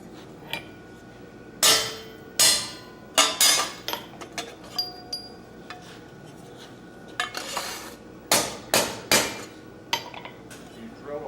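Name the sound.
punching a hole in a steel plate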